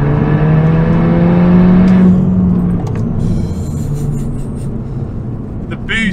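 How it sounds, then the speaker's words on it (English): A stage 2 Mk2 Seat Leon FR with a 3-inch downpipe and S3 intercooler pulls hard in third gear from about 40, its engine note rising steadily for two seconds before easing into a loud, continuous drone with road rumble. "Third gear from 40, foot down."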